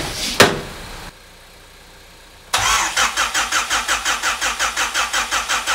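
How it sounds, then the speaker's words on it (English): A car engine cranks and catches close by after a brief sharp knock and a quiet pause, then settles into a steady idle with an even, pulsing rhythm. "My wife's car is running, so we gotta hear that as well."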